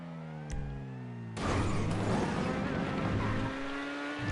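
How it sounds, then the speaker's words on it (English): A car in GTA V Online stunt racing hums along, then breaks into a loud, noisy tyre squeal while brake boosting. The skid holds near-constant to the end over the engine drone. "Brake boosting, we hear the squeal"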